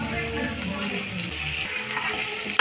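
Butter and ginger sizzle steadily in a pan, a close, continuous frying hiss with soft bubbling that runs unbroken from start to finish.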